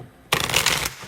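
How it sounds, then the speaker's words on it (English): A single quick riffle of tarot cards being shuffled for a reading, a crisp papery flutter lasting about half a second up close, with no talk. "I'll go ahead and shuffle live."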